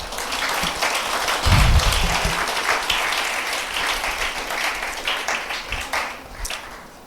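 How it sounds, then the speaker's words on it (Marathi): A church congregation claps loudly together at a service, a dense burst of applause that swells early and then tapers into scattered claps. "परमेश्वराला मोठ्याने टाळी वाजवा."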